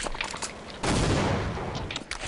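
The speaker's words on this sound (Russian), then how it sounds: "И на баре стреляют в стенку." Burst of gunfire striking a wall on the Inferno map in Counter-Strike, a dense rattling volley that starts abruptly partway through and holds loud before easing, with no talking.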